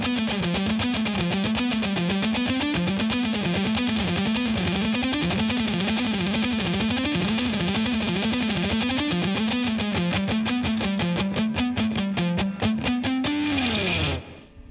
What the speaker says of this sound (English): I've got a lot of distortion, so even though I'm picking very lightly, the note's still coming out nice and strong